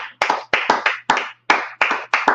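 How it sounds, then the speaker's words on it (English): Several sharp, separate bursts of hand clapping ring out in quick succession during a Tuesday night class, loud and close, with brief gaps of silence between the claps. "Clap it up"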